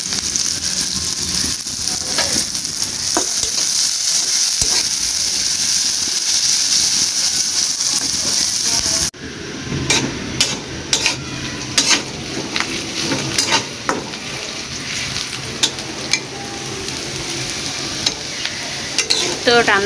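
Chopped onions frying for a vegetable bhaji on a village veranda, sizzling loudly and steadily while a spatula scrapes and stirs the pan in repeated strokes, with one abrupt change in tone partway through.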